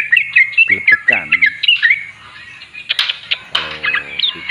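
A sooty-headed bulbul held in a hand sings loudly and close up. It gives a busy run of chirps, whistles and harsh squawks in quick bursts, pauses briefly midway, then resumes.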